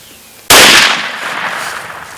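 A single rifle shot fired while hunting dangerous game cracks out loud and close, then rings off in a long fading tail, with only quiet before it and no voices.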